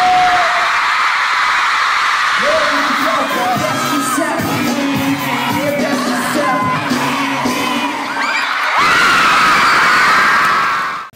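A large crowd of girls screams and shrieks at a concert in Santiago, loud and close, with piercing cheers and yells that dip briefly and then surge back to a peak toward the end.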